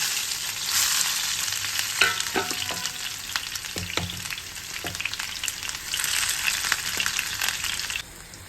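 Chopped onion frying in desi ghee, a loud close sizzle with a brief stirring clatter of a spoon partway through, then the hiss drops abruptly near the end.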